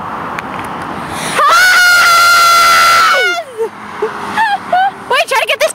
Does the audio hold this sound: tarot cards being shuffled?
no